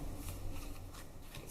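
Soft, rapid papery rustling and light tapping of tarot cards being handled and arranged, close up, with no talking.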